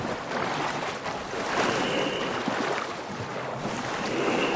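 Ocean surf washes onto a beach in the survival game Sons of the Forest, a steady broadband rush with gentle swells and wind, fairly loud and continuous with no talk.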